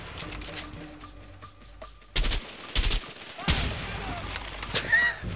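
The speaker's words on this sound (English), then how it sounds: "Is that a turret? Nope, just a machine gun." Video game A Way Out: bursts of machine gun fire crack out in heavy rattling volleys, loud and close, broken by brief quieter gaps of mechanical clicks and background game sounds.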